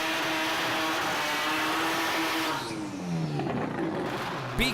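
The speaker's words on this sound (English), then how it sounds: "Big burnout and savage launch there from Maltarik in the little Datsun Ute" A little Datsun ute at a Melbourne drag racing jamboree holds a loud, sustained high rev through a burnout, then the engine note drops and climbs again as it launches and pulls away.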